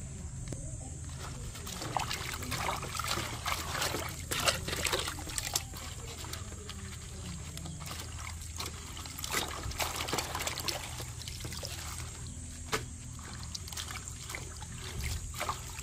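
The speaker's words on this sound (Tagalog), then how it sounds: "Huhugasan natin maigi." Water trickles and splashes steadily as vegetable leaves are rinsed one by one for a pork pata and mustard-leaf sinigang, with intermittent handling clatter close by and no voices.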